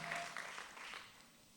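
Church congregation applauding in acclamation of God during a French-language worship service, a steady wash of clapping that starts strong and eases slightly over a short stretch, with no speech.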